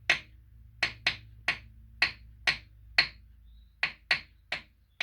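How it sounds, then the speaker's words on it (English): A hammer gently tapping an engine block near the knock sensor, about a dozen crisp metallic knocks at a steady, slightly uneven rhythm, each with a short ring, over a low idle hum. "he's going to gently tap the block with this hammer"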